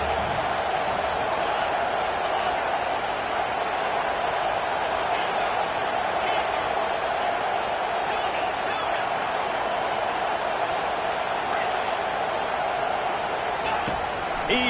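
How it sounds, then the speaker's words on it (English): Roaring stadium crowd at an NCAA football game, a steady loud wall of cheering and noise that runs through the whole stretch, with a commentator's voice talking over it. "this crowd is turning it up a notch"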